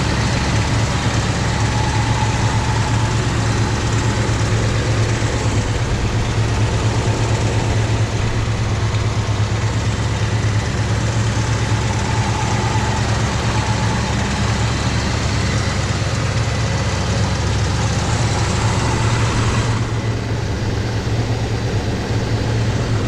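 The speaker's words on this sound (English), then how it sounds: "Let you hear the engine and the exhaust." A 1965 Chevrolet Chevelle Malibu SS convertible idles in neutral, its engine and exhaust giving a steady, loud low rumble that holds unchanged throughout with no voices over it.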